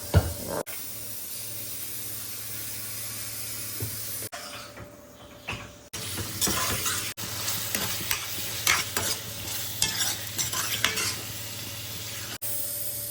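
Leftover pork curry scraped and shifted into another pot for reheating, steady hiss and sizzle with repeated spoon scrapes and clatters against metal, broken by a brief quieter pause midway.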